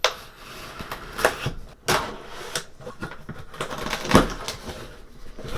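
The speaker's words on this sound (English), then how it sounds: "let's rip into the box" A cardboard box holding a Eurostart remote starter for a BMW being opened up close, with irregular rustling, flap tearing and knocks in separate bursts.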